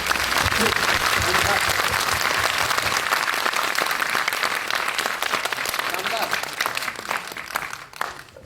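Audience at a motivational training seminar breaking into loud sustained applause, a dense continuous clatter of clapping that thins out and fades near the end.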